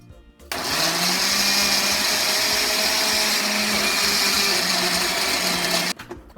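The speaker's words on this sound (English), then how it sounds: "So just chop up your things and you get ready to blend." A kitchen blender whirs loudly and steadily as it chops tomatoes and peppers into a chunky mix, starting abruptly and stopping after several seconds.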